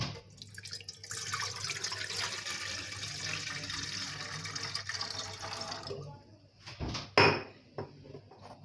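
Water pours into an idli stand vessel for several seconds at close range, a steady splashing that tapers off, followed by a couple of sharp metallic clanks.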